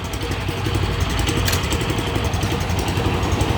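A Mitsubishi 6.3 hp petrol engine on a garden tiller runs steadily at idle, a close, continuous buzzing drone with no pauses.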